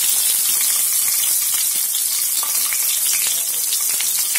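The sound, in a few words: cumin seeds sizzling in hot oil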